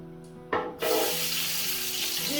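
Onion going into hot sunflower oil for seafood fried rice with crab, a sudden splash and burst of loud crackling that settles into a steady close sizzle.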